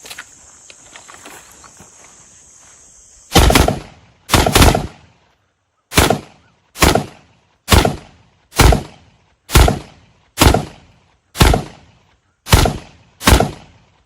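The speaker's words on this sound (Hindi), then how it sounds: "हमने गन को जीरो कर लिया, थोड़ा सा हम इसको रैपिड फायर करके" Rapid pistol fire from a handgun zeroed with a red dot sight at a shooting range: about eleven sharp, loud reports in quick succession, close and evenly paced, after a few seconds of quieter handling noise and a faint hum.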